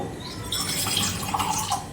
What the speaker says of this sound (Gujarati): આ મેથી અને પાણી છે એ પણ એમાં નાખી દઈશું